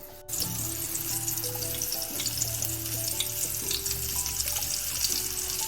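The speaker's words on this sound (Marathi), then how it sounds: "आपण ही जी पिठात गोळवलेली मच्छी म्हणजे बोंबील आहे ते आपण ह्याच्यात सोडूया." Batter-coated bombil fish dropped into hot oil for a crispy fry, a sudden burst of sizzling that settles into a steady, close, bubbling fry with no talk.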